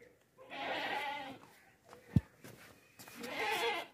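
Goats on a farm offered for sale, dairy and pregnant does, bleat in two loud drawn-out calls at the start and end, with a sharp knock between them.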